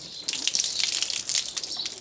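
Water splashes and gushes while conditioner is rinsed from a horse's tail outdoors, a close, continuous hissing spray with uneven surges.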